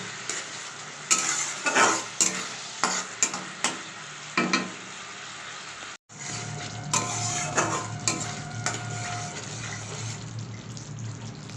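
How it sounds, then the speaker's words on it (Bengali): Spices stirred and sautéed in a pan for a Bengali bhetki fish curry: repeated scraping spatula strokes over a steady close sizzle, with one brief break midway before the frying and stirring resume. No one speaks. "সব মশলাগুলো একসঙ্গে মিশিয়ে ভালো করে কষাবো"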